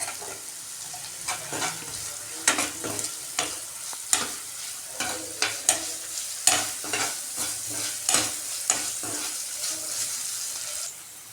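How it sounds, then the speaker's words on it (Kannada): Finely chopped tomato with vegetables frying in a pan, a steady soft sizzle broken by repeated scraping stirs of a spoon at a regular pace, close and clear with no talking. "ಇದು ಒಂದು ಸ್ವಲ್ಪ ಹೊತ್ತು ಫ್ರೈ ಮಾಡಬೇಕು."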